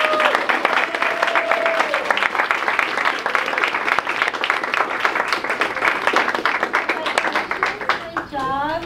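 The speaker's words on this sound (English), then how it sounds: "So let's give a big round of applause for your fellow student, Rosemarie Ann Del Rosario." An audience applauds a student receiving a Red Devil Way Award in a classroom, with steady dense clapping throughout and voices heard over it.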